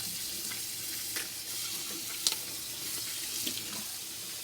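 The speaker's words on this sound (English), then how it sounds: "I'm going to throw in my water to wash my vegetable." Tap water pours steadily into a kitchen sink, filling it to wash vegetables, with a continuous close splashing rush and a few faint clinks, no voices on top.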